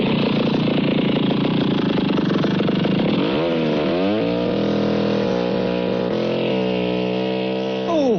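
A chainsaw sound effect in a novelty song revs and whines with rising and falling pitch, a loud, buzzing motor drone that runs continuously through the musical backing.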